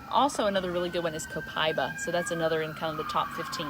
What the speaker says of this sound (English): Actually, that's not the cops. That's the ambulance.